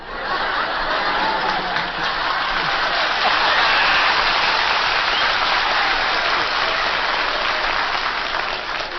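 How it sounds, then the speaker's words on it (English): Studio audience of husbands applauding on an old People Are Funny game show, a dense, steady wash of clapping that holds at the same loudness for the whole stretch with no voices on top. "Boy, there was a lot of applause by husbands here then."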